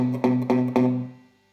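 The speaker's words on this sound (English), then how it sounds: "you're actually muting the string with the finger above it or a finger below it" Three quick strummed guitar chords that sound dull and choked, each decaying fast, the last fading out; no voices.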